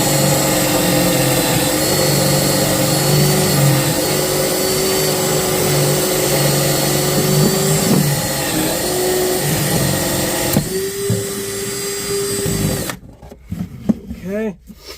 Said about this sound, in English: And my drill is falling apart.